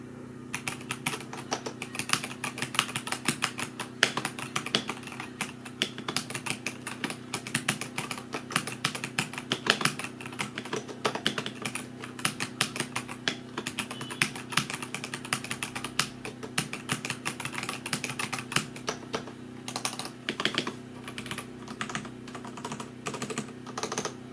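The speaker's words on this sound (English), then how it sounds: "We'll do a typing test real quickly just to show you what this keyboard sounds like." Typing on a Redragon SHACO 60 aluminum mechanical keyboard with red switches: a fast, steady stream of close clacking keystrokes with occasional heavier spacebar hits, continuous throughout and no talking.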